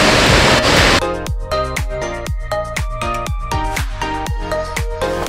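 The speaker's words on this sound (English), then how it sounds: "Look, a waterfall." A waterfall roars in Mantenga Nature Reserve, Eswatini, a dense, loud, continuous rush heard close up at first. Soon a rhythmic run of repeated bright tones plays over it.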